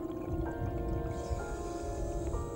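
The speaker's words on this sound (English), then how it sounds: "His camera clearly records the sound of air being expelled into the water." Bubbly underwater gurgling and hissing as air streams out of a diver's gear in the Blue Hole, Dahab, during a fatal uncontrolled descent, with a muffled low rumble and faint tonal hum throughout.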